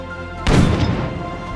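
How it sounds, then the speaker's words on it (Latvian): A cartoon snow cannon fires by itself with a single sudden loud boom that rumbles on and fades slowly over a steady background hum. "Kā gan lielgabals varēja pats no sevis izšaut?"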